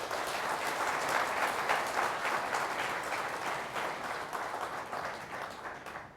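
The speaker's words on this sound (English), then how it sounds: "So please applaud yourself once more" A room full of event attendees clapping for themselves, a dense, even wash of applause that holds steady and tapers slightly toward the end.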